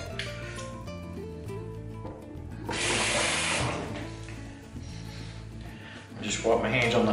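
A tap runs as shaving lather is washed off hands, a rushing splash of water heard close, mostly in the middle and again at the end, with background music playing and someone talking over it.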